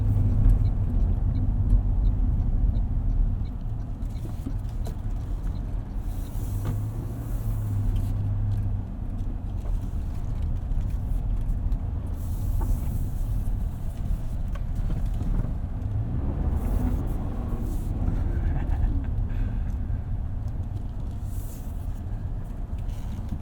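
Inside a 2024 Toyota Tacoma SR XtraCab pickup with an eight-speed automatic, a steady low engine and road rumble drones on at an even level, with tyre noise and no speech.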